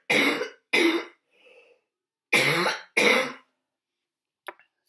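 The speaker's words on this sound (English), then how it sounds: "sorry, got a cough." A person coughs close by in two quick pairs of harsh bursts separated by a short pause, with a faint throat sound between and a tiny click at the end.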